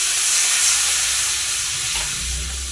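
Masala sizzles loudly in a pan just after a splash of water goes in, a close, steady frying hiss with faint stirring scrapes near the end.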